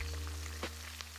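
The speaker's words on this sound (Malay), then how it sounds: "tu kita masukkan sayur, goreng api besar" Vegetables stir-frying over high heat in a wok, a soft continuous sizzle over a low steady hum, with a couple of faint stirring clicks.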